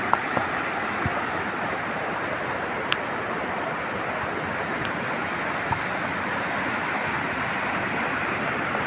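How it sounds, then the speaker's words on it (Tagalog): Strong rushing floodwater roaring continuously, a dense, loud broadband wash with no talk. "Ambak na tubig, kusog ng tubig"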